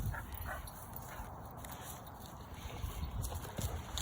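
A dog named Piper gives soft whimpers and small yips amid outdoor rustling and background noise, close but not loud, with a few faint voices nearby.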